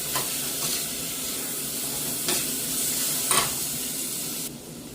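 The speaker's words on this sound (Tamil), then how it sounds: "தக்காளி பழம் நல்லா வதங்கணும் மண்டியில் ஒருக்கா மிக்ஸ் பண்ணி விடுவேன்" Tomatoes sauté in a pan for a brinjal curry, giving a steady close sizzle broken by a few quick stirring scrapes, with no voices.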